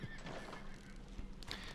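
Horses in the Red Dead Online video game whinny and stamp, with a short neigh, scattered hoof clops and a bright jingle near the end, set against a steady game ambience with no talking.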